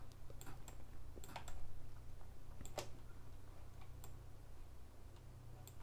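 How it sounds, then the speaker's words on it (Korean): Computer keyboard keys are pressed for Photoshop shortcuts, a handful of sharp, separate clicks scattered irregularly over a low, steady background hum. "Shift 키를 먼저 눌러주고 그 다음에 Alt 키를 눌렀고요"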